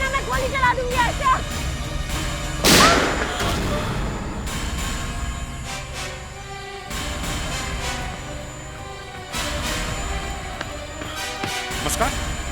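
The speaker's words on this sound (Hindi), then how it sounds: "मुस्कान, तुमने गोली किस पे चलाई?" A single sharp, loud bang rings out amid a tense scene, with speech and movement around it.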